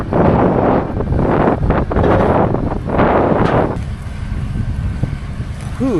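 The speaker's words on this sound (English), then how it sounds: "it's windy" Strong wind buffets the microphone in an open farm field during corn and bean planting, a loud roaring gust for several seconds that drops to a lighter steady blow.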